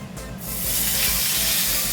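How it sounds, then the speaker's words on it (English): Meat drops into a very hot pan for Valentine's Day dinner and sears with a sudden, loud sizzling hiss that swells and holds steady for a couple of seconds. "Sizzling hot"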